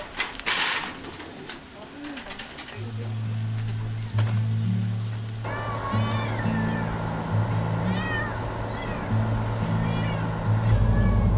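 Captured cats on a small island meow repeatedly, with several drawn-out cries mixed with other animal calls, while people talk and handle gear nearby.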